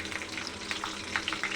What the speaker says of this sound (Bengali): ওই তেলেই দিয়ে দিচ্ছি আমি রসুন